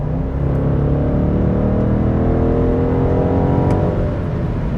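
A powerful BMW M850i Gran Coupe V8 pulls hard, its deep, loud roar climbing steadily in pitch as the car gains speed, heard from inside.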